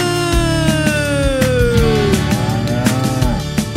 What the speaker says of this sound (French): La vache Lola, elle a une queue et fait un drôle de bruit. Elle fait meuh